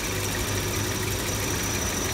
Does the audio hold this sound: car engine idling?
yes